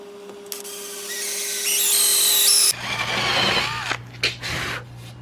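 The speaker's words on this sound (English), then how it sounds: "Okay, I've got all the holes drilled" A power drill bores dowel holes into a wooden breadboard end of a farmhouse table, a loud steady whine rising in pitch, then cutting off into a lower, rougher drilling burst with short stops near the end.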